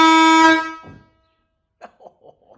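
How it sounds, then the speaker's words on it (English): A model tugboat horn on the Nep'Toon micro tug, triggered by a horn button; one loud, close, buzzy blast lasting about a second, then quiet with faint scattered handling noises. "Here's the horn."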